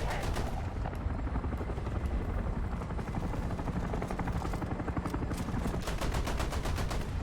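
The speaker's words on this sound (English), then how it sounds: "We got the chopper down, chopper down." War Thunder battle sounds: a helicopter's steady rotor thrum under repeated bursts of machine-gun fire, loud and continuous throughout, with no voices.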